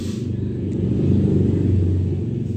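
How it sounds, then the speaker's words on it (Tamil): A steady low engine rumble from a motorbike passing outside, muffled and moderately loud, holding level throughout. "வெளியே பைக் சத்தம் கேட்கும்"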